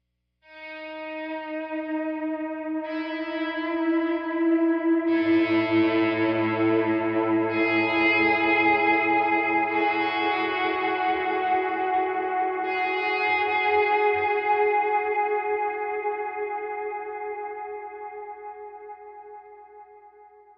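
Electric guitar notes swell in slowly one after another, smeared by washy delay and reverb into a sustained, shimmering wash that gradually fades.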